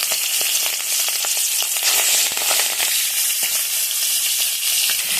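Salt and turmeric coated shrimp fry in hot oil with a loud, dense, continuous sizzle and crackle, close up and steady throughout with scattered pops.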